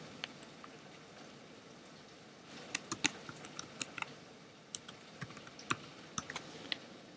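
Quiet, scattered keystrokes on a computer keyboard as a password is entered, starting a few seconds in as irregular light clicks over a faint steady background hiss.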